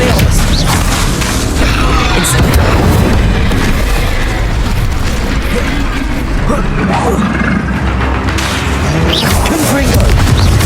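Repeated Confringo blasting-spell explosions in the Hogwarts Legacy video game form a loud, dense, continuous wall of booms and crashes, while a voice speaks over the combat.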